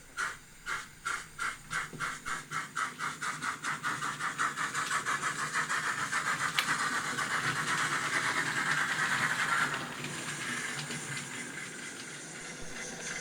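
A model N7 locomotive runs along the track, a rapid rhythmic chuffing that starts in distinct beats and speeds into a steady continuous rush, fairly loud and close, then easing into a softer hiss with no talk.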